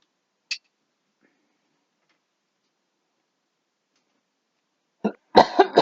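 A person coughs a few times, sharp and close, in a quiet craft room while making a polymer clay Christmas tree ornament, after a long near-silent stretch with one small tick.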